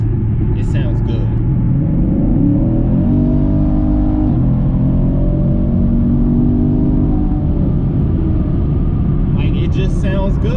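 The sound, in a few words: aftermarket exhaust on 2016 Chevrolet Camaro SS revving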